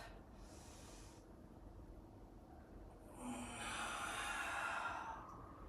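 A slow, deep breath drawn and released during a yoga backbend session, soft airy inhale followed by a fuller, louder hissing exhale close to the microphone, with no talking over it.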